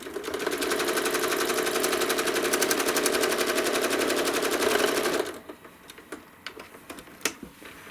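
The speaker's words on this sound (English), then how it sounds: "then I'll stitch a loop in the next bunny ear" Sewing machine stitching a loop on a small fabric bunny ear: a fast, even mechanical rattle for about five seconds, then it stops, leaving scattered soft taps and clicks.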